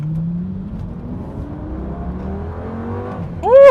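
A 2004 Lamborghini Gallardo accelerates hard, its engine note climbing steadily in pitch through the gear, loud and close, ending in a sharp high-revving surge.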